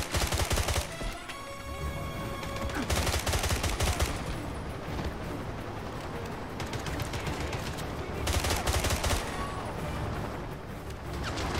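Video game gunfire in 007 Blood Stone rattles in dense, continuous bursts of automatic shots and impacts that swell and ebb but never stop.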